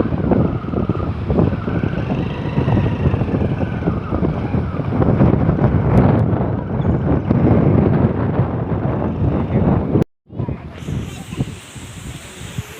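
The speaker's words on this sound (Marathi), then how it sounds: "आणि वारं पण किती सुटले बघा" Strong wind gusts buffet the microphone at Panhala hill fort near Kolhapur during the monsoon, a loud continuous roar that breaks off abruptly near the end, with voices talking beneath it.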